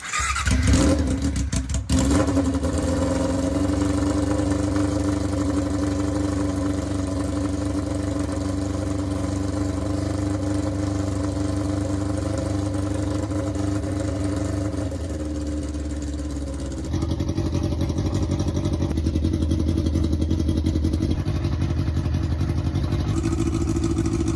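A Yamaha R6 sport bike idles while warming up, a steady close engine drone that holds for the whole stretch with a brief dip in level partway through, and no speech.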